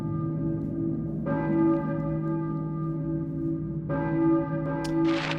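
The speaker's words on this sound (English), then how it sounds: "Who's ringing the bell?" A church bell in the video game Silent Hill tolls with a deep, sustained ringing tone, struck again at about 1.3 and 3.9 seconds so each strike swells over the lingering hum, with no talking.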